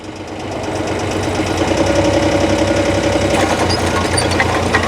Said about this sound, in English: Can you fire it up? No, the spinner. I mean the trencher, sorry. Oh yeah, low RPM.